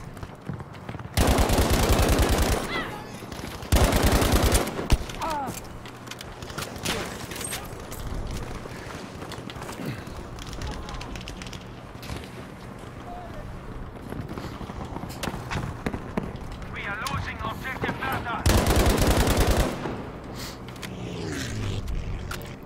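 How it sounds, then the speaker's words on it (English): SMG gunfire in Battlefield 5, several loud sustained automatic bursts near the start and again near the end, with fainter shots, footsteps and game noise in between. "We need to go in with assault with the"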